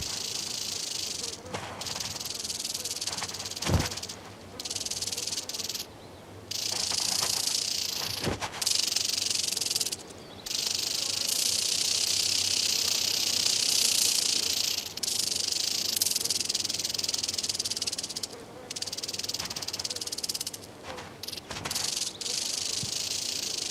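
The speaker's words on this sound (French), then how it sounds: "Le serpent à sonnette se replie." A rattlesnake rattles as it faces off against a roadrunner, a loud, steady buzzing hiss that continues for long stretches with short breaks, close and clear, with no voice over it.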